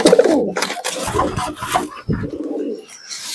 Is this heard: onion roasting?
no